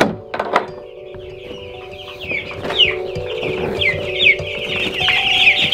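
Farm chickens clucking and squawking in repeated bursts, some calls rising sharply, with a steady low mechanical hum running underneath throughout.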